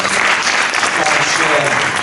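Audience at a panel discussion on social innovation financing applauds a panel guest: loud, dense, steady clapping filling the room throughout, close and continuous with no talk over it.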